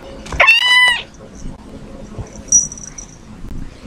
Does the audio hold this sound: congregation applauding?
no